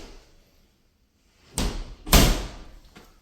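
A door in a newly built home swings and shuts with two firm thuds about half a second apart, then a faint knock, with quiet room tone before and no talk.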